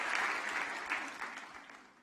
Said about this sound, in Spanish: Así que denle un aplauso fuerte al rey.